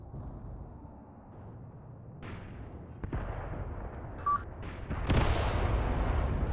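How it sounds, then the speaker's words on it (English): Artillery strikes in the WW2 strategy game Mius Front, a low rumbling bed broken by several sharp booming impacts, the last one loudest and followed by a sustained roar, with a short electronic beep between them. "Artillery striking."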